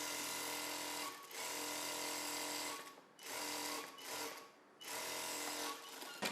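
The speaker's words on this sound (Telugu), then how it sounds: "జస్ట్ చివరన ఎడ్జెస్ మాత్రమే ఇలా ఫోల్డ్ చేసి కుట్టు వేసేసుకోవాలి." Sewing machine stitching the folded edge of a blouse sleeve, a steady close whirring drone in long runs broken by brief pauses, no voices.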